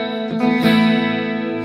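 Clean electric guitar tone from Bias FX 2 Mobile on an iPad with no compressor engaged: a single sustained chord rings steadily and fairly loud for under two seconds, played alone.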